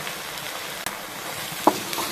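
Chopped eggplant sautéing in a pan for a dried fish curry, making a soft continuous sizzle with a few light clicks of a spatula against the pan.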